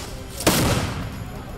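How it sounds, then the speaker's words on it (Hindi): Firecrackers set off during a celebration in Thulasendrapuram, Tamil Nadu: a single sharp bang lands at once and trails into a long crackling decay over a steady noisy background. "खुशी में पटाखे छोड़े जा रहे हैं।"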